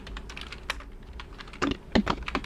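Irregular taps and clacks of a computer keyboard during spreadsheet data entry, close and fairly quiet, with a few louder keystrokes near the end.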